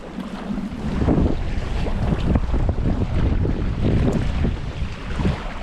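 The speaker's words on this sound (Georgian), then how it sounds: "ძალიან ქარიანი ამინდი არის." Strong gusting wind at a lake during a fishing outing, a continuous loud roar buffeting the microphone with rushing surges throughout and no voices.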